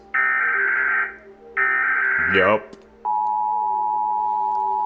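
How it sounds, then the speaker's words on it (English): An American emergency alert tone blares loudly in two long steady bursts, followed by a sweeping glitchy drop and then a continuous single-pitch tone, with a brief spoken word in between. "countries have different emergency alert systems. The one I'm used to is America's that sounds like this."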